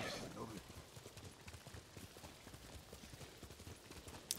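A horse galloping in Ghost of Tsushima, hooves pounding out a quick, regular clip-clop rhythm, near and fairly faint under ambient game sound.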